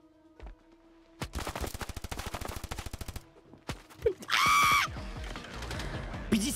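Rapid bursts of video game gunfire in a first-person shooter duel, a fast volley of repeated shots followed by a second shorter burst, loud and close, with scattered impact and effect sounds.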